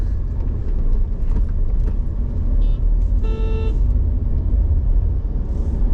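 Road traffic passing on a city road near an IT park in Pune, heard from inside a moving car: a steady low rumble of engines and tyres with a brief horn toot midway, no talking.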